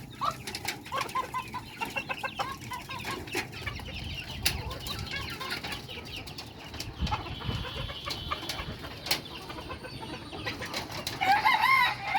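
Laying hens and young chicks on an open rooftop chicken farm cluck and chatter in scattered bursts, with occasional sharper calls and knocking sounds, fairly close, without speech.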